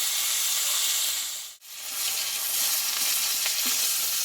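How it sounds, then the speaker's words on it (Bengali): Fish rubbed with salt and turmeric frying in mustard oil in a wok, a loud continuous close sizzle that briefly cuts out midway before resuming, with no voices. "কড়াইয়ে দিয়ে দেবো কিছুটা সর্ষের তেল দিয়ে মাছটাকে আমি ভেজে নেব"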